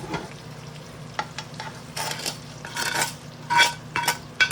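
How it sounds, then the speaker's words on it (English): Bacon sizzling and frying in a pan alongside ravioli, with soft crackling plus scraping and clinking of a utensil stirring against the pan, fairly quiet and close. "So now we're going to add in our bacon."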